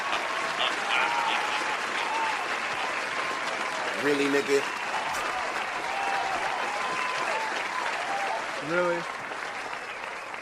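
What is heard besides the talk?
applause sound effect of hand claps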